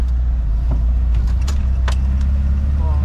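A car rolls over a speed bump at low revs, its engine giving a loud, continuous low rumble with faint uneven sputters and light rattles over the top.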